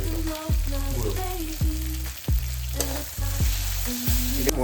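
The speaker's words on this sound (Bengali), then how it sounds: "এটা মশলাটা একটু হালকা হালকা পুড়ে যাচ্ছে" Ground cumin, coriander and chili powder sizzle and fry steadily in a hot pan, a continuous close crackle broken by a few sharp scraping stirs.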